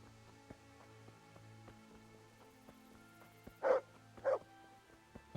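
A dog barks in Kingdom Come: Deliverance, two or three sharp, loud barks at a moderate distance, rising out of a quiet game background of soft tonal ambience.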